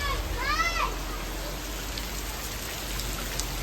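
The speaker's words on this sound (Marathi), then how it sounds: "इथं पाऊस किती आहे" Heavy rain pours steadily on a village home during a monsoon visit, a dense continuous hiss throughout with a few children's voices calling briefly near the start.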